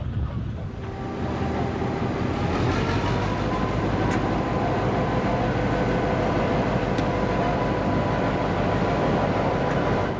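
Restored Kingston Flyer steam train running, a loud continuous rumble and rolling roar that holds steady throughout, heard close by.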